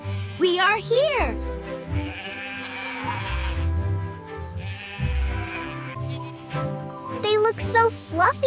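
Sheep on a farm in a kids' cartoon bleat repeatedly in wavering cries, near and clear, mixed with cheerful music and voices talking.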